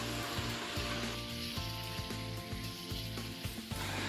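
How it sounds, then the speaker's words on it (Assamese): Peeled jackfruit seeds fry together with local chicken meat in a pan, giving a continuous close sizzle with occasional stirring, while a steady tonal background plays, no voices. "মাংসৰ লগত সেইখিনিও ফ্ৰাই কৰি ল'ম।"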